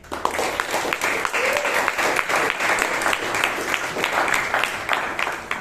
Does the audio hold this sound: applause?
yes